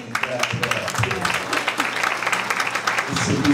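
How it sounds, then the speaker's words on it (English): Audience applause at a black-tie gala for a keynote speaker, a moderate wash of clapping that runs steadily through the moment with crowd noise beneath. "You can clap for that."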